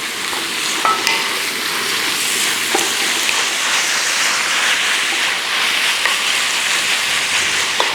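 Beef pieces sizzle and spatter in hot butter and oil in a pan, a steady close frying hiss with occasional sharper pops and the scrape of stirring, no voices.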